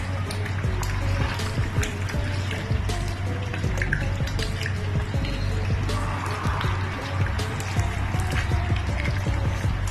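Tomato stew stirred in a pot, a wet, thick bubbling and sloshing with soft scrapes of a spoon, continuous and close over a steady low kitchen hum.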